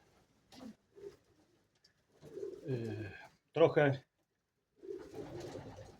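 Pigeons coo softly in a breeding loft, a few low, short calls scattered between stretches of someone talking nearby.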